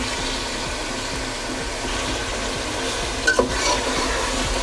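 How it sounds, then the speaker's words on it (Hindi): Chicken frying in a pan with garlic and ginger paste, a constant close sizzling hiss with a low rhythmic stirring scrape and a brief clink near the end, no voices. "लहसुन अदरक के साथ चिकन को जब हम भूनते हैं"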